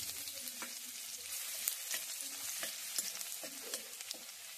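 Grated garlic, added to hot oil with cloves, cardamom, cinnamon, dried chilli and cumin for an egg tarka, sizzles steadily up close, with faint stirring clicks all the way through.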